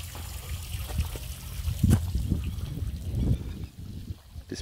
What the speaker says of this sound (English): noise of the water trickling around looks really cool